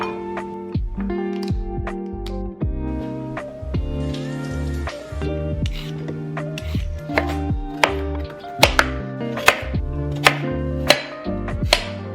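A knife slicing through zucchini on a cutting board, a brisk series of crisp chops that speed up toward the end, each stroke ending in a sharp tap on the board; close and clear, with no talking.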